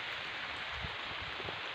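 Steady rain falls outdoors, a dense, even hiss with no breaks. Soft low thumps sit beneath it, and it sounds fairly close but quiet.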